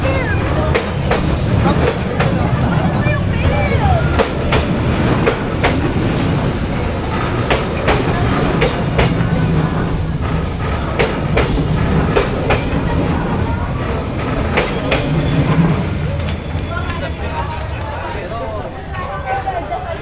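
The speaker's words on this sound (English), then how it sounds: "That is a big, heavy-ass train." A heavy train rumbles past close by in Hanoi, Vietnam, loud and continuous, wheels clacking rhythmically over the rails with a low roar and faint voices underneath.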